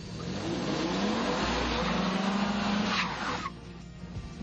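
A four-wheel drive Toyota Tacoma pickup truck drives past with a loud, steady engine roar and tire noise that rises briefly and then fades, no talking.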